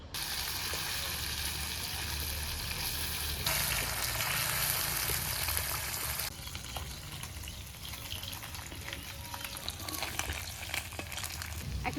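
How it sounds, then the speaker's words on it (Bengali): Small river fish fry in hot oil in a pan with a loud, steady sizzle and crackle that carries on throughout, with occasional small clinks. "আগে মাছগুলো তো ভেজে নেই"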